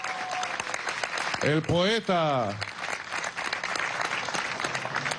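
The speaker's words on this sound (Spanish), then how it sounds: "Vamos a recibirlo con un aplauso." Crowd applause greeting minister Alfred Nazareño Áñez at a Venezuelan housing-mission anniversary rally, steady clapping throughout with a voice briefly calling out over it and a rising-falling vocal cry in the middle.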